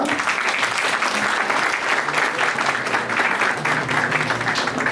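Wedding guests applaud loudly and steadily throughout, a dense, continuous clapping from a sizeable crowd with no break.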